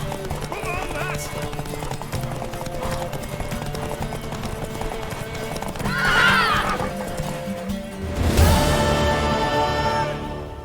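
A horse's hooves clip-clop steadily in The Witcher 3, with a bright whinny rising mid-way and a louder, strained neigh near the end over a game soundtrack.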